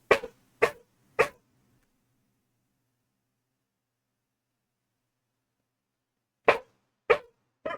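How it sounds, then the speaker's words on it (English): A dog gives three sharp, loud barks in quick succession, then falls silent for several seconds before three more barks, each burst short and punchy, close by and alone. "supersonic barks. With how loud those are, I wouldn't be surprised. Sound like sonic booms."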